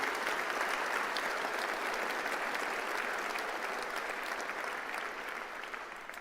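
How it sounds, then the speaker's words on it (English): Sustained audience applause for Secretary Wright at an energy event on the nuclear power push, a dense, steady wash of clapping throughout that thins slightly near the end. "We need to pause and recognize the bold leadership and give them a round of applause."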